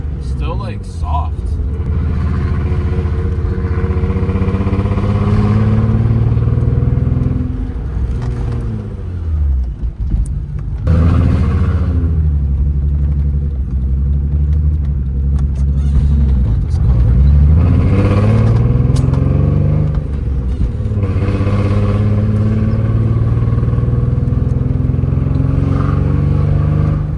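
A car with new brakes drives along, its engine rumbling loud and steady with rises and falls in revs as it slows and speeds up. People talk over the engine noise throughout.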